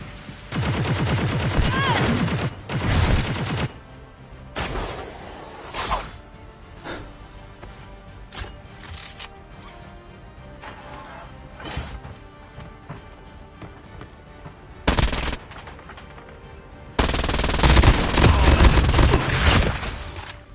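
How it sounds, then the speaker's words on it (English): Bursts of automatic gunfire from two squads fighting in Call of Duty Mobile, loud rapid volleys at the start and end with scattered single shots and shorter bursts in between, close and intense. "I heard two squads firing and I went in as a third party"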